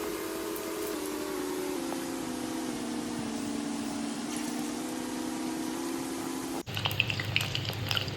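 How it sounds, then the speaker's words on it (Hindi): Lauki koftas deep frying in hot oil, a steady loud sizzle and bubbling hiss throughout, shifting to a harsher crackle for the last second or so. "इसको गोल्डन ब्राउन होने तक फ्राई करना है"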